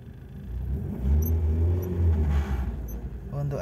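Mazda Familia Lantis 323 engine starting and settling into a low idle, a near rumble that rises and dips, with faint clicks and a voice over it.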